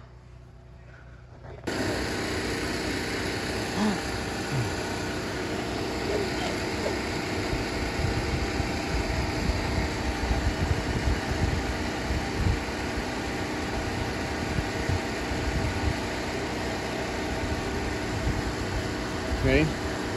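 Steady interior road noise from a car being driven, a constant low rumbling hum that starts abruptly and continues throughout, with faint voices underneath.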